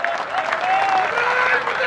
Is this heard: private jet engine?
no